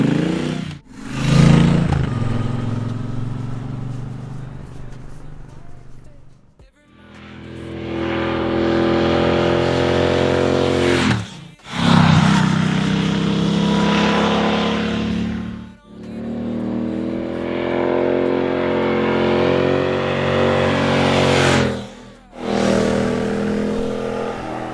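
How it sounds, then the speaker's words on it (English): A 2026 Triumph Bobber motorcycle engine, just started, roars through several loud revs separated by brief drops to near silence, each burst swelling up and then cutting off sharply. "It feels like you are physically waking up the engine with your own hand. Like it needs a little nudge from you to come to life."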